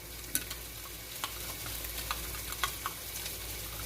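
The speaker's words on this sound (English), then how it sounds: "We're going to put in a tablespoon of yeast right in there. We'll stir that up." A spoon stirring yeast into a mixing bowl for bacon cinnamon roll dough, giving a steady scraping swish with light clicks against the bowl, close and fairly quiet, with no talking.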